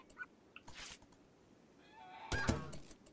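A goose in RimWorld lets out a few honking, gobbling squawks as it dies, faint short calls with a louder burst near the end.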